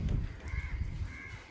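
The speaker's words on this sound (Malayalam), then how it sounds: "കാക്ക കുറേ കാക്കകൾ." Several crows caw loudly and close by in two drawn-out calls, with rustling and low thumping noise underneath and no talk.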